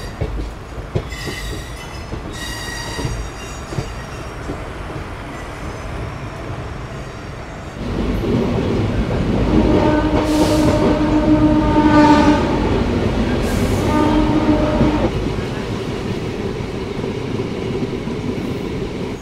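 A special passenger train bound for Digha runs with the locomotive close by, its steady rail rumble swelling after a few seconds, with wheel squeal and tonal whines rising over the clatter and no talk.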